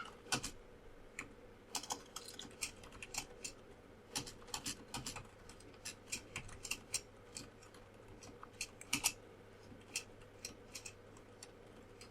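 Someone types code on a computer keyboard in a quiet room, with irregular bursts of close, crisp key clicks and short pauses, and a low steady hum underneath.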